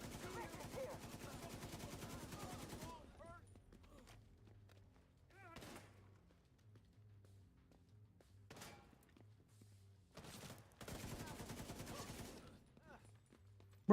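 Gunfire in the shooter game The Division 2, several bursts of rapid automatic shots separated by quiet gaps, crisp and fairly close.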